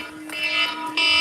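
A loud electronic alarm drones steadily at a pigeon loft, a harsh buzzing tone that swells partway through and then sits at full strength, with no talking.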